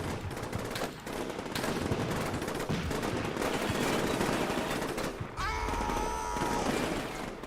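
Heavy, sustained gunfire rattles in the wargame Combat Mission: Black Sea, with dense machine-gun bursts and rifle shots rolling continuously at close range before a brief drop and a harsher stretch near the end.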